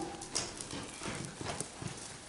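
Horse hooves walking across the footing of a riding arena during a clinic lesson, a steady soft clip-clop rhythm close by with light background noise and no talk.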